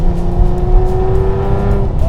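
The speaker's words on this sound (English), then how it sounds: "just listen to that exhaust" Loud, close exhaust note from a Porsche 964 RSR on the road, a steady droning engine tone holding constant revs with a slight rise near the end.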